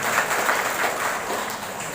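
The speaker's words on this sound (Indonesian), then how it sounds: "Luar biasa tepuk tangan untuk Bapak Kepala Kantor" Dense applause from an audience of teachers at an indoor gathering honouring the head of a religious affairs office, steady and moderately loud throughout the short stretch.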